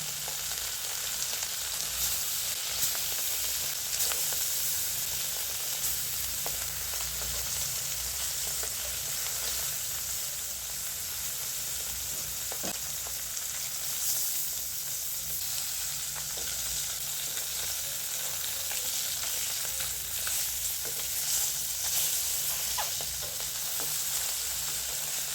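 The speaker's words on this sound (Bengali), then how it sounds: "মাছ ফ্রাই করব।" Small fish fry in oil for a curry, with a continuous crackling sizzle that stays steady and moderately loud throughout, marked by faint pops and clinks and no talking.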